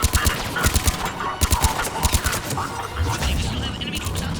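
Heavy gunfire in the video game Mass Effect: dense, continuous bursts of rapid shots and impacts crackle loudly throughout, overlapping with a busy battle din and no clear talking.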